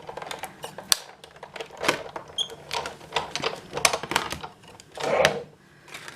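A die cutting machine feeds an acrylic plate through with a series of close, irregular clicks and ratcheting crunches, fairly quiet, with no talking.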